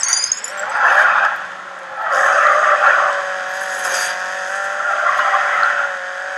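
Race car tires squeal in long sustained skids as the car slides off the road in the racing video game Grid 2, loud and close with the engine droning underneath.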